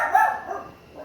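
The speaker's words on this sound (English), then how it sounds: "Dog. Barking." A dog barks loudly and close by in one or two short bursts, the yelps fading into a quieter tail with no voices.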